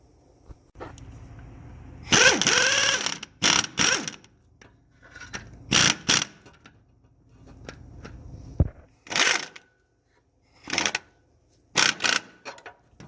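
A tool tightens the timing belt tensioner screws on a Chrysler 300 with bursts of close mechanical ratcheting and clicking in short repeated spurts, separated by quiet gaps.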